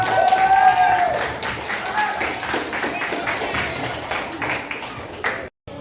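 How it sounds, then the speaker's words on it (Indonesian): A classroom audience claps together, a moderate, even patter of hands that continues for several seconds, with a voice briefly audible at the start. "tepuk tangan untuk kita semua"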